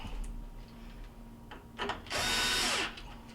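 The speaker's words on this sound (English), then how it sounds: "now we're going to put on our mounting screws for the cooktop" Power drill driving a cooktop's mounting screws into the cabinet, heard as short tool bursts followed by one loud, sustained whir of under a second before it stops.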